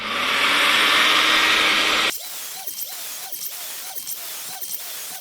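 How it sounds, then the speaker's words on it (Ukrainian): A loud, steady cordless vacuum-cleaner roar runs for about two seconds and cuts off abruptly, leaving a repeated mechanical whirring and clicking. "пилосос вмикаємо"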